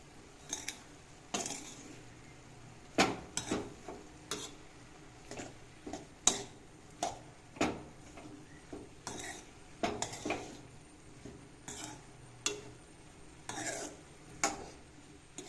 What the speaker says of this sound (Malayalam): നമുക്ക് എല്ലാം ഇതിനെ ഒന്ന് ഇളക്കിയിട്ട് കൊടുക്കാം.